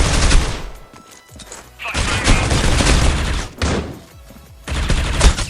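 Gunfire in the mobile shooter Critical Ops, loud close bursts of rapid automatic shots in several long volleys separated by short gaps.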